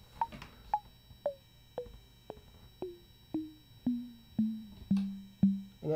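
A Serge Variable Q VCF resonant filter is struck in a series of about a dozen evenly spaced pings, each a short decaying tone, stepping downward in pitch and growing louder and longer toward the end.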